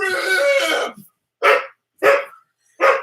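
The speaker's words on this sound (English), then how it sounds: "The dogs are going nuts in the other room" Several dogs bark in another room: one drawn-out voiced yelp, then three separate sharp barks in an even rhythm, fairly loud and a little muffled, with no talking.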